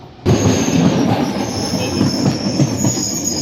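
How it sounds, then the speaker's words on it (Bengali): A train rumbles loudly and close into a station on the Mount Lavinia to Mirissa line in Sri Lanka, wheels grinding and squealing on the rails in a continuous roar with a high metallic whine. "ওই ট্রেন আসছে।"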